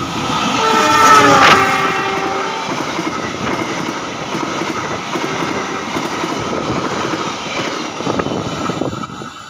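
A parcel train rumbles past close by, its horn blaring loudly early on, then wheels clatter rhythmically along the rails as the cars roll through.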